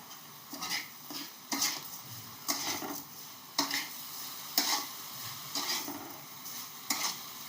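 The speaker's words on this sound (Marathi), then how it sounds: "चांगली साखर अशी मिक्स करून घ्यायची. पाक होतोय साखरेचा" Sugar and milk stirred together in a pan as the sugar melts into syrup for coconut laddoos; close, regular scraping strokes of a spoon roughly once a second over a soft bubbling, with no talking.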